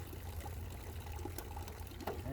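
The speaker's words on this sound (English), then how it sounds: "Water's coming up there." A faint, steady trickle of water runs out of a drain hole in a rusted metal anchor locker, with small gurgles, quiet and close, without any voices.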